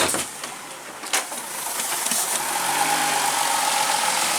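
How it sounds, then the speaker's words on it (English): A car engine running with no oil and a broken oil pan idles with a steady low hum and faint uneven rattling, a couple of soft clunks early on, then settling into a constant drone. "It's just sitting here idling."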